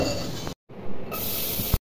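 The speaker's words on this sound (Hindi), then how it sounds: "इसमें हम गार्लिक चॉप को सौते कर रहे थे" Chopped garlic and onion sauté in about two tablespoons of hot oil with a steady close sizzle and hiss, cut by two abrupt silent gaps.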